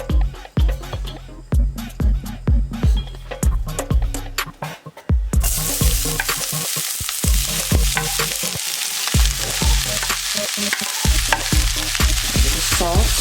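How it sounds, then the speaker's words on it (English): Carrots, celery, onions and garlic sautéing in olive oil, starting with rhythmic stirring and clacks in the pan, then turning into a loud continuous sizzle with occasional stirring. "Add a little olive oil in the bottom of the pan so that I can saute my carrots,"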